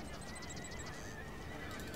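Horses neigh and whinny repeatedly in a battle in the video game Empire: Total War, with hoof clatter and a dense, continuous din of combat beneath.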